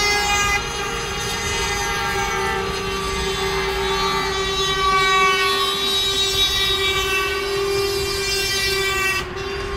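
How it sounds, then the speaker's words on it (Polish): Lorry drivers sound truck horns for a minute at noon in tribute to a Polish trucker killed on the job; a loud, sustained chorus of steady horn blasts holds for nearly ten seconds, then cuts off. "w południe na minutę zatrzymali ciężarówki i trąbili w całym kraju"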